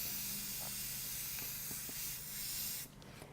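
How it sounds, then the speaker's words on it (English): Hairspray from an aerosol can hisses steadily over a natural charcoal drawing as a fixative, one continuous close spray that cuts off near the end, with no talk. "So I have hairspray here, and I'll carefully spray that"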